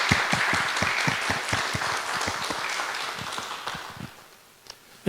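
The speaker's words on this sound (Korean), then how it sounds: "박수로 환영하겠습니다" Church congregation applauding to welcome a retired Methodist guest pastor at a Korean holiness church service, a dense burst of many hands clapping that gradually thins and fades out near the end.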